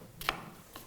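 A knife chops onion on a board for a winter bajra millet khichdi: three sharp, close chops, the middle one loudest, with quiet gaps between.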